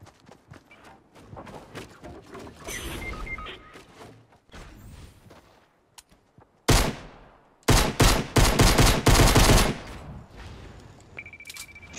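Gunfire in the Fortnite video game, with scattered shots early and then a loud burst of rapid automatic fire in the second half, amid game sound effects.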